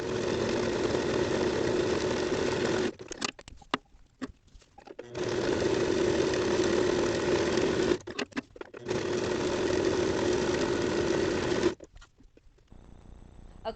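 A sewing machine stitching wide straps along the edge of the presser foot: a loud, steady buzzing whir in long continuous runs, broken by short stop-and-start pauses, with no talking.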